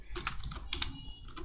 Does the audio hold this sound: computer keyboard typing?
yes